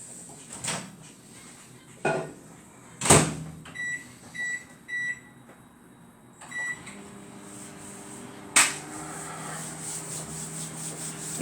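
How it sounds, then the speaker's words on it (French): Microwave oven running in a home kitchen while butter is softened, with a steady hum, three beeps in a row partway through, and scattered clunks and handling knocks around it, no talk. "Je vais le passer au micro-ondes un petit peu"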